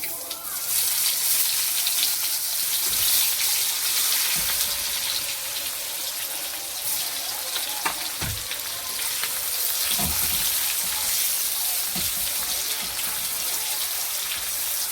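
Chopped onion frying with a dried chilli and cumin seeds makes a loud, continuous crackling sizzle, up close, with occasional knocks and scrapes of stirring throughout.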